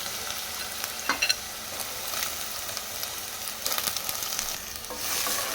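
Potato pieces frying in hot oil with mustard seeds give a steady, close crackling sizzle, broken by a few sharper pops and stirring scrapes near the start and middle.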